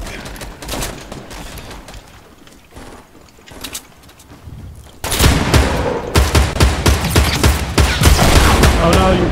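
Dense, loud gunfire in a video game, scattered sharp shots at first, then heavy overlapping volleys and rapid bursts, close and continuous with rumbling booms beneath.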